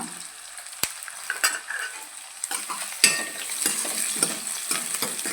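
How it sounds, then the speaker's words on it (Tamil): Two green chillies sautéing in a pan, a continuous close sizzle broken by sharp clinks and scraping spoon strokes as they are stirred, with no talk. "நல்லா வணங்கட்டும் இந்த ஸ்டேஜில் ரெண்டு பச்சை மிளகா"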